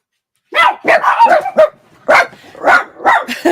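Several house dogs bark in short, loud bursts, a quick cluster of barks followed by a few more spaced ones, close by with no talking over them.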